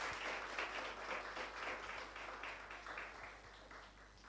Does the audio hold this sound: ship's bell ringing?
no